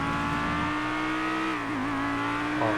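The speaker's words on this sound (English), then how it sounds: "Back to a GT from the quiet electric car to the loud, angry GT3 car." A GT3 race car engine in the GTA FiveM driving game roars loudly, its pitch holding high, then dipping and climbing again as it shifts through gears.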